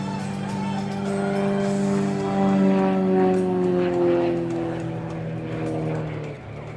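Extra 330LX aerobatic propeller plane in a flying display, its steady engine drone holding loud and continuous with harmonic tones that shift slightly as it climbs vertically.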